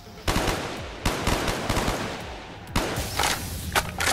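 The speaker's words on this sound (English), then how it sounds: "Such a weird angle to be shooting at zombies" Repeated gunfire in Call of Duty Black Ops custom zombies mode, bursts of shots fired at zombies, loud and close, sounding in several clusters with short gaps between them.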